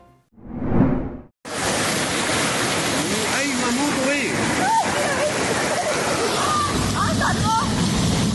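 Rushing floodwater from heavy rain pours through a stream in the San Fernando neighborhood, a dense, loud, continuous roar after a short opening burst, with voices faintly audible beneath the torrent.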